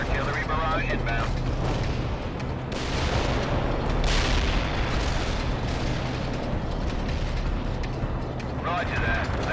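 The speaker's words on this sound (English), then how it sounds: "Fire mission received. Artillery barrage inbound." Artillery barrage explosions in the real-time strategy game World in Conflict: a continuous rumbling roar of distant blasts with heavier bursts partway through, under radio-style voices talking.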